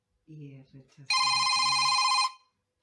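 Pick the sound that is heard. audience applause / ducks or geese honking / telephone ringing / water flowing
telephone ringing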